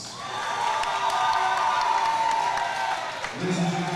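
Crowd at a live fight-night event, likely Elevate Fighting Championship 3, cheering and applauding steadily in a dense, roomy wash, with shouts and a tonal whine riding over it before a voice cuts in near the end.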